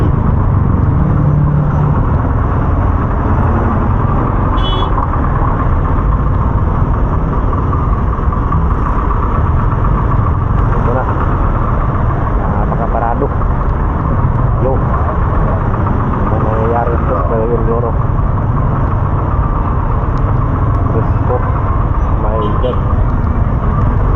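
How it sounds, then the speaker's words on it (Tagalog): Heavy congested road traffic with parked trucks and trailers in Cagayan de Oro produces a constant loud rumble of idling engines, steady throughout, with people talking over it. "Grabe yung traffic sa Gayong guys."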